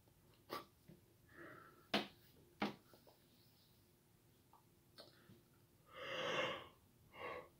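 A person yawns quietly, a soft breathy drawn-out exhale near the end among a few faint breaths and small clicks, in a very quiet setting.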